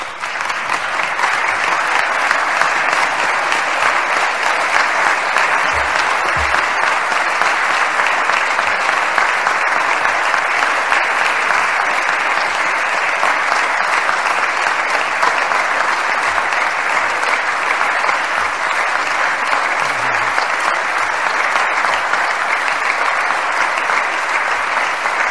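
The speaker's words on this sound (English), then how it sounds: "I want you to give these guys a tremendous round of applause" Sustained, steady applause from a large audience honoring veterans' scholarship givers, dense clapping that holds at an even level for the whole stretch with no talking.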